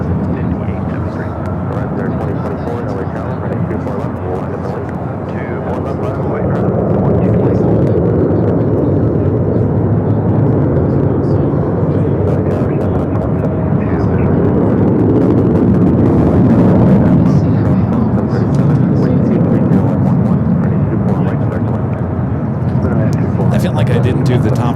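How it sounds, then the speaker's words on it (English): A United Boeing Dreamliner rolls down runway 25 right at LAX, its engine roar building after a few seconds into a sustained, loud rumble, with a voice talking beneath the noise. "United Dreamliner rolling down the 25 right"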